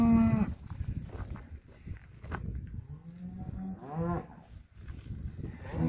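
Several cows moo nearby, their long low calls repeating amid a quiet farmyard background, as newly vaccinated weaned replacement heifers are returned to the herd.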